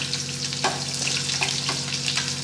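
Long-sliced onions and curry leaves fry in hot oil, sizzling steadily and close up, with occasional stirring scrapes breaking through the crackle.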